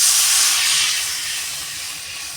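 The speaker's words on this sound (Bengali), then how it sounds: "এই মাপে 2 বাটি জল দিয়ে দেব" Water poured into a hot cooking pan after chopped chilies, giving a loud, steady hiss that slowly fades, with no talk over it.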